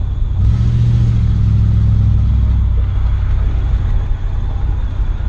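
A car with a 350 TBI engine runs after fuel pressure regulator work, a loud low rumble that swells briefly as if revved, then settles into a steady idle, close and alone.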